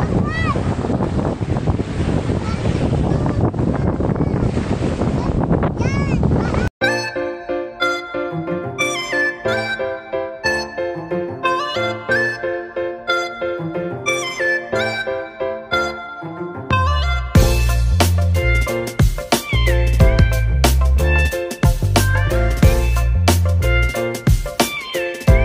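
Ocean waves wash and roar at Lian, Batangas, close and loud with heavy wind buffeting for about seven seconds before music takes over.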